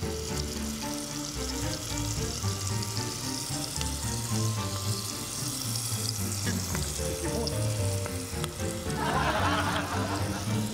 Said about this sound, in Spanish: estoy ahora aquí cocinando la cebolla